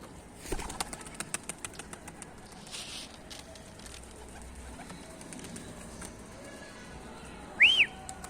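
A red Mardin pigeon lifts off, giving a quick run of faint wing claps and flutters that fade as it flies away, followed later by a short, thin whistle against quiet outdoor background.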